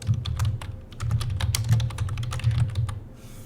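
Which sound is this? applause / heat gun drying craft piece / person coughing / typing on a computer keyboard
typing on a computer keyboard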